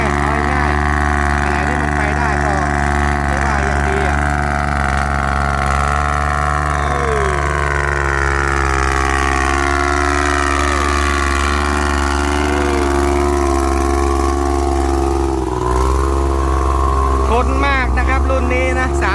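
A Kubota L3408DI ride-on tractor engine fitted with an RX183 rotary tiller runs loudly and steadily at a constant droning pitch, close by throughout, while someone talks over it.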